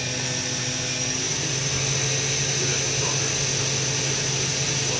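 Hurco VMX-42 vertical machining center spindle spinning at 7,500 RPM, a steady loud whine with sustained tonal hum, unbroken for the whole stretch.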